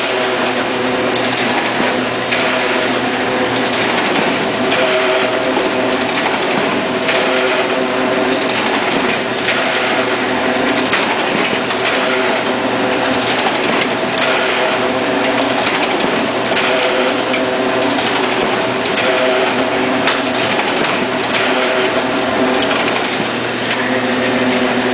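A Horizon MC8 stacker and twin tower collator booklet maker runs continuously, producing a dense, even mechanical whir with a busy rhythmic clatter that holds steady and loud throughout.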